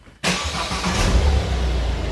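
A Peugeot car engine catches and settles into a steady idle after a brief quiet moment, a close, continuous mid-pitched rumble with a low throb that holds even through the rest.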